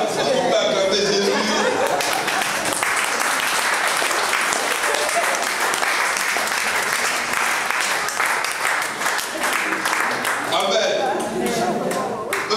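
Congregation applauding in a Martinique church service: sustained, dense applause from a large crowd with cheering and chatter, a voice speaking over the start and end.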